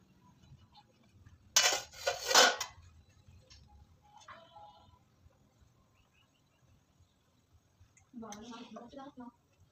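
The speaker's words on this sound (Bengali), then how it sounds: "তুমি দেখো তুমি বাসন কত ঠক করে আওয়াজ হলো তো" Kitchen utensils and pots clatter during home cooking: one loud, close burst of clanking that fades to near quiet, followed by a voice talking near the end.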